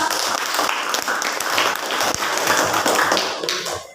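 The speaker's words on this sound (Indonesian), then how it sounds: "Tepuk tangan untuk kelompok 2." A classroom of students applauding a presenting group, dense, continuous clapping from many hands nearby that swells and then tapers off at the end.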